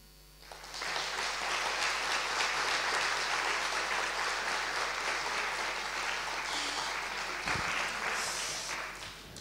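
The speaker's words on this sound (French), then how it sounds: "Sous cette salve d'applaudissements" Sustained applause from the audience at a children's reading competition, steady and dense clapping filling the hall for several seconds before tapering off at the end.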